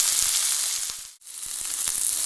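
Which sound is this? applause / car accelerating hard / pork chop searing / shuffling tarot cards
pork chop searing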